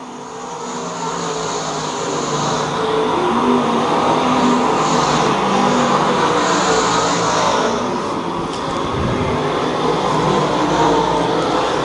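Race cars lapping at the Lakeside night races, heard as a loud, sustained engine roar that builds and holds as the pack passes, with a few brief louder sweeps.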